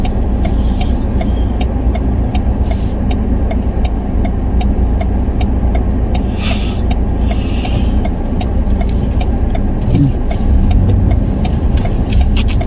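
A car engine idles steadily and loudly up close, a continuous low rumble with a faint regular ticking, outside a Costco store.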